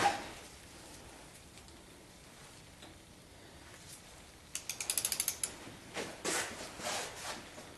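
A ratchet with a deep socket tightens cylinder head bolts into aluminum threads on a 1976 Corvette engine, a quick close run of crisp clicks followed by a few slower ratcheting strokes.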